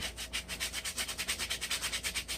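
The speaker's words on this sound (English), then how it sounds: "to do it by hand, sand it down by hand" A rusty hatchet's wooden handle sanded by hand: fast, even back-and-forth rasping strokes, close and fairly quiet, with no voices.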